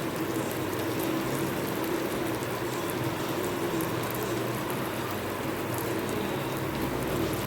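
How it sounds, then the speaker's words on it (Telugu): Mashed roasted eggplant goes into a hot pan and is stirred for a curry, giving a steady, close hiss and bubbling crackle that holds at an even level throughout with no voices. "ఇప్పుడు వంకాయ వేసుకుంటున్నానండి"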